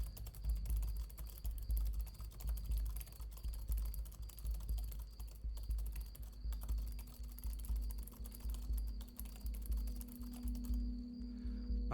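Computer keyboard typing clatters steadily throughout, a dense run of quick keystrokes close by over a low background hum, with no voices.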